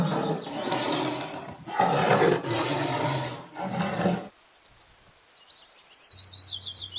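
A tiger roars several times in loud, rumbling bursts, then fades into quieter surroundings with faint high bird chirps.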